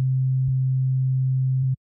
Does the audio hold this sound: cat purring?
no